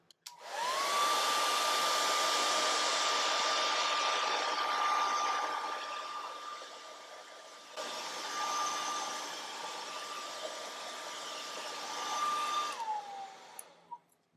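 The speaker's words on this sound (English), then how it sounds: "So let me dry mine quick." Hair dryer blowing on wet paint, a steady close whine and rushing air that switches on, drops in intensity partway through, then winds down and cuts off.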